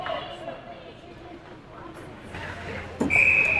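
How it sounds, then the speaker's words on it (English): A referee's whistle sounds at a youth ice hockey game, a short shrill blast near the end over arena chatter and crowd murmur, with a commentator talking. "we're going to get a whistle and an offensive zone face-off for the Green Machine"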